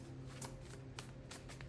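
Tarot cards are shuffled quietly in a few quick riffling bursts, close by and soft, with no talking.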